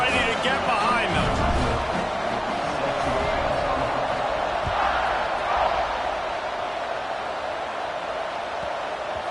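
A stadium crowd in a college football video game, Alabama against Indiana, keeps up a steady roar at kickoff beneath a commentator's ongoing talk.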